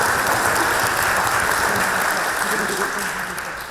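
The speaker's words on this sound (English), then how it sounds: "Please, yeah, go ahead and clap." An audience applauds at an Oxford Union Q&A, a dense sustained wash of clapping that tapers off slightly at the end.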